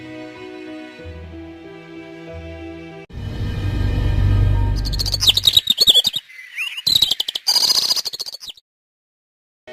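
A parrot in an animated story about a woodcutter, flying onto his shoulder, chirps in loud, rapid bursts of high tweets after a stretch of soft music and a rushing swell, then falls silent.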